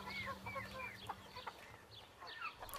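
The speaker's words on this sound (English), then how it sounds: "there are plenty of animals, hens and sheep and cows, to impart a bit of neighbourly warmth" Hens cluck and chatter on a farm, several short rising calls overlapping in quick succession, fairly close and soft, with a low steady hum underneath.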